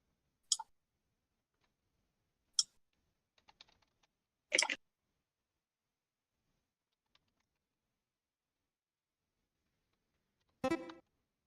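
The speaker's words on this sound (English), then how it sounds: "Just start hammering on the keyboard." Scattered bursts of keyboard typing, a few quick clicks and short flurries of keystrokes separated by long silences, close and fairly quiet.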